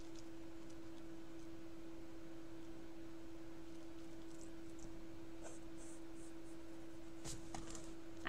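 Faint scratching of a pencil on paper while sketching insects, with soft intermittent strokes over a steady electrical hum.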